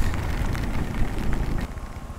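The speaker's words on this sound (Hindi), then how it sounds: "भयानक जोरात पाऊस येतो आहे" Heavy monsoon rain pours down steadily on a roadside near Khandala during a Mumbai to Pune motorcycle ride, a loud, dense rushing hiss with scattered close drops and no talking.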